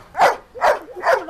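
A puppy barks three times in an even rhythm, short yappy barks close by and fairly loud, with quiet gaps between them.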